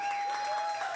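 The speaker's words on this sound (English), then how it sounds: "I want you to start clapping right now for my friend." Applause from the crowd at a brunch comedy show in Houston, a short burst of steady clapping heard at a moderate distance, with a faint tone running underneath.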